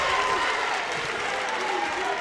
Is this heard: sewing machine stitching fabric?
no